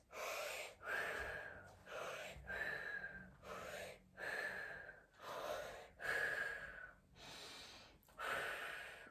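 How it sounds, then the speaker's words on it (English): Slow, deliberate breaths in and out through the mouth during a guided fascial stretching exercise, about eight or nine close, airy breath cycles with a steady rhythm and no talking. "breathe in and out through your mouth 6 times"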